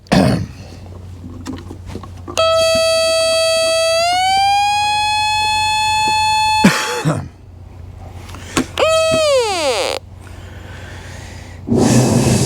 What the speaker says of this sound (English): Let's get the metal detector and let's see if we have a success story.